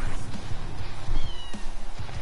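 Cat meows in the video game Fortnite come close and loud in quick succession, with a plaintive, slightly wailing tone and no talk over them.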